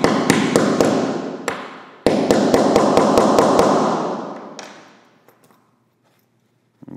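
A metal snap fastener is hammered into fabric while sewing a men's garment: a series of sharp, close taps, several quick blows in bursts, then a few faint knocks as the ringing dies away.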